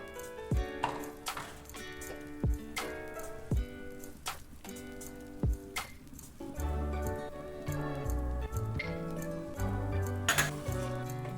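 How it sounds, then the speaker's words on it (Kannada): Dishes and a metal pan lid clink and clatter in a kitchen while white sauce pasta cooks, with several sharp knocks and scraping clanks over a steady low hum of frying or simmering, no voices. "ಇದನ್ನ ಒಂದು 2 ಸೆಕೆಂಡ್ ಮುಚ್ಚಿಟ್ಬಿಡೋಣ"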